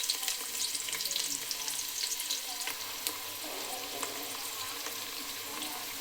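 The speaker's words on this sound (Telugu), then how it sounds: "ఇందులో కట్ చేసుకున్నటువంటి ఆనియన్స్ వేసుకోవాలి" Chopped onions fry in a generous amount of hot oil, a dense, even crackling sizzle that holds steady throughout with a few faint stirring taps and no speech.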